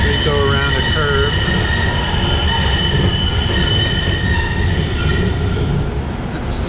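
A Newark City Subway light rail train runs loud and close, its wheels squealing with sustained high-pitched tones as it rounds a curve over a constant heavy rumble of rolling stock.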